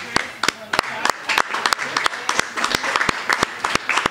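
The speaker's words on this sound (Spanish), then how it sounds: "Así que primero lo que pido un gran aplauso para Arthur." Applause for Arthur de Pin at a presentation during the Festival de Cine Fantástico Costa del Sol, heard as sharp, evenly spaced claps ringing out close and loud over a murmur of crowd and voices.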